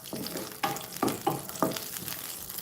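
Raisins sauté in a pan for Omani chicken kabsa, a soft background sizzle punctuated by four or five distinct scraping stirs of a spoon, faint and close with no talking.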